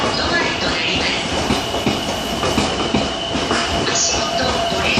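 Odakyu 30000 series out-of-service train pulling away from Fujisawa Station, a steady loud rumble of wheels and rail noise with faint squeals and a clatter of joints, platform announcements faint in the background.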